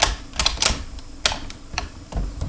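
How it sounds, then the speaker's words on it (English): U.S. Enfield rifle bolt reinserted and pushed forward, giving a quick run of light metallic clicks and rattles, close and fairly loud, with no voices. "You just reinsert the bolt like this, and then pump it forward, and you'll hear a click."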